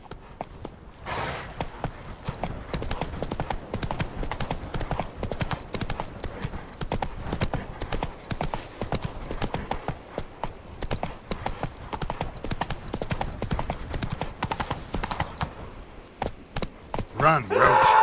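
Roach the horse galloping in The Witcher 3, rapid rhythmic hoofbeats pounding steadily and close, with brief voices over the running.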